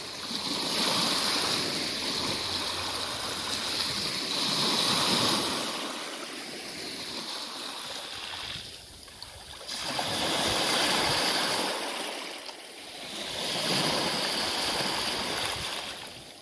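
Waves wash onto a pebbly beach on the Furness Peninsula in south-west Cumbria, each surge rising to a loud hissing rush, then receding, in slow repeated cycles with no talking.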